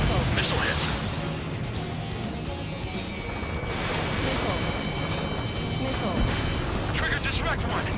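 A missile strike explodes in the combat flight game Ace Combat 7, a dense, sustained rumbling blast layered over constant jet and battle noise, loud and close, with radio chatter running underneath.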